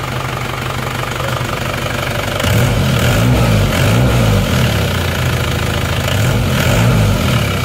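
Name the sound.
Panther car engine idling unevenly before repair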